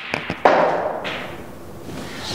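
A cue tip freshly coated with chalk strikes a billiard ball with maximum right-hand spin: a few light taps, then one sharp crack of cue on ball, followed by fainter rolling and a soft contact a moment later.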